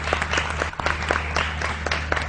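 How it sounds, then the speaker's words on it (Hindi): Studio audience on a morning talk show clapping, a brief lively burst of scattered claps over a low steady hum, close and moderately loud. "अरे वाह, तालियां।"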